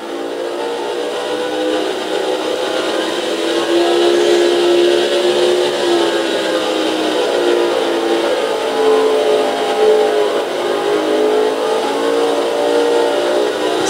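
Race car engines in the PS2 game NASCAR 06 at the Chevy Rock & Roll 400, a steady loud droning whine with shifting pitch as cars run, continuous and close with no talk.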